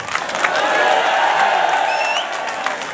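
An audience at a mushaira breaks into dense, sustained applause to welcome poet Azhar Farag, a close wash of clapping with a few cheers and whoops mixed in.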